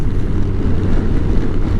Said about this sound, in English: Although it's a little windy